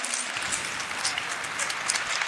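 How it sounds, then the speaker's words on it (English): Audience applause at a community gathering, dense steady clapping from a crowd, close and sustained for a couple of seconds with no talk over it. "Clive, I want you all to give this man a round of applause."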